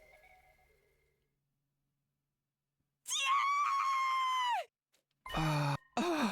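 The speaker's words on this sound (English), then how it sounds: "The sudden cry rang through the night. It definitely had come from inside the school." A loud, drawn-out scream from inside the school in The Hundred Line: Last Defense Academy video game, followed after a short gap by a second anguished cry, both heard after near silence.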